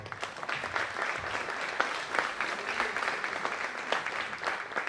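Sustained audience applause at a lace festival evening ceremony, many hands clapping in a steady dense patter that continues for around five seconds at moderate level, with no voice on top.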